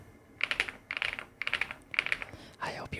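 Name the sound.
typing on Epomaker Galaxy100 gaming keyboard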